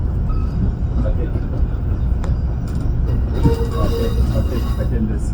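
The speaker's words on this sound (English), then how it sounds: "le train est parti" An EXO commuter train rumbles loudly and steadily, with wheels clattering and occasional squeals as it pulls away, and voices can be heard faintly beneath the noise.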